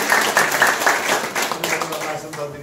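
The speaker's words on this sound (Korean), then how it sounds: "박수하면서" A crowd claps together at a campaign rally for a provincial governor candidate, a dense burst of hands that stays loud and fairly even before tapering slightly, with voices mixed into the clapping.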